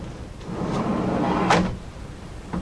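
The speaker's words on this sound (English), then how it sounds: "we can fit the top drawer, making sure the front faces of both drawer boxes are flush with the carcass front" A wooden drawer box slides into a handmade two-drawer cabinet carcass, a smooth rising rumble ending in a single sharp knock as it seats flush, followed by a light tap.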